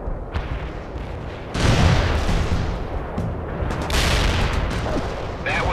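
Artillery fire in the World in Conflict video game booms in heavy, loud blasts, one big impact followed by a rumbling barrage and further explosions about two seconds later, with no speech.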